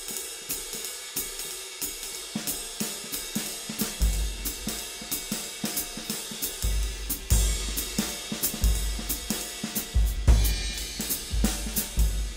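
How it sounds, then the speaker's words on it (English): A drum kit plays a swing beat: steady ride cymbal taps and snare strokes keep a loose repeating pattern, with booming kick drum hits joining partway through, close and fairly loud, with no talking. "A lot of times I hear people play a swing beat and it sounds like this."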